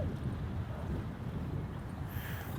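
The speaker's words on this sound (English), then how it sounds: "The wind's just pushing." Steady low wind rumble buffeting the microphone on a wooded disc golf course, continuous and fairly loud, with no other sounds.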